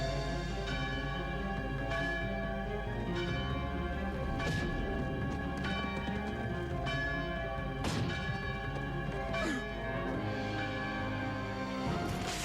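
An alarm bell rings out repeatedly in a town plaza, loud metallic strikes recurring over a continuous busy orchestral-like background, with no talking.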